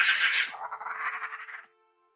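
A Silithid wasp from World of Warcraft gives its death sound: a short, raspy, buzzing screech that drops in pitch and fades out after about a second and a half, heard alone with no talk.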